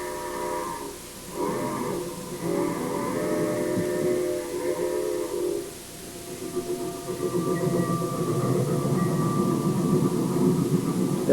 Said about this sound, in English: Local freight from Vanceboro with a 400 class engine coming into Bangor.